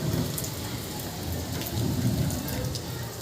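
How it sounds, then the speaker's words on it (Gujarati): Rain pours down in Junagadh as a dense, steady roar of drops hitting surfaces, close and continuous with slight swells in loudness and no break. "તો જો વરસાદ થઈ ગયો છે હવે"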